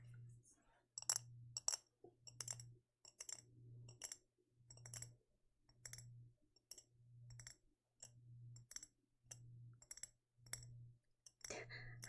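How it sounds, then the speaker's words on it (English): Folded paper stars rattle inside a glass jar in bursts of light, crisp clicking and clinking, a dozen or so rolling passes at a steady rhythm, close and quiet, over a low periodic hum. "I don't know if you guys can hear the little paper rolling around in the jar"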